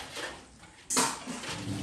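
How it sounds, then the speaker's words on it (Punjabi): Dishes, utensils and metal tongs being washed by hand in a village home, with soft scraping and a sharper clatter of metal knocking together, close and moderately loud. "ਇੱਥੋਂ ਤੱਕ ਕਿ ਆਪਾਂ ਚਿਮਟਾ ਫੂਕਣਾ ਸਾਰਾ ਕੁਝ ਧੋਨੇ ਆ।"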